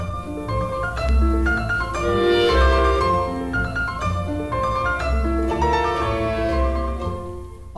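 An orchestra with solo piano plays a rhythmic oompa-style passage from the last movement of Brahms's Piano Concerto No. 2, full and sustained with steady bass pulses and no talking.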